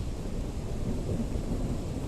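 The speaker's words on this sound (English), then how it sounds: "Look at the lightning strike." Deep, continuous rumbling thunder follows a lightning strike in a PlayStation VR2 game, a loud low roll with faint rain-like hiss and no voices.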